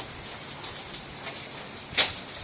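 Heavy rain pouring down at a house: a dense, continuous hiss of drops hitting surfaces, steady and fairly loud, with a few brighter splatters standing out.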